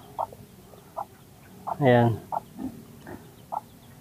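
A hen gives a short burst of clucks among scattered soft chirps from chicks, with a brief word spoken nearby.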